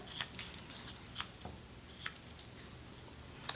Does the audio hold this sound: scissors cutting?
yes